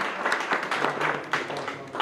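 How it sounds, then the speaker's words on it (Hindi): A crowd at a BJP induction rally in Delhi claps to welcome new party members, brisk rhythmic applause heard fairly close and steady for a couple of seconds. "जोरदार तालियों से स्वागत करें।"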